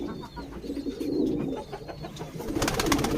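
Budgerigar chicks calling from inside a nest box, a busy cluster of soft chirps and cheeps that rises into a denser, louder chatter toward the end, heard close with no talking.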